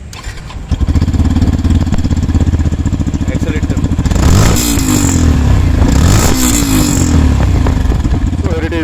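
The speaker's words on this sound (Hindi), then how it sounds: "एक बार आपको सुना देता हूँ इसकी एग्जॉस्ट की साउंड कैसी है" A 2023 Yamaha FZX motorcycle engine idles with a loud, pulsing exhaust beat, then revs up sharply twice, the pitch rising and falling with each blip of the throttle.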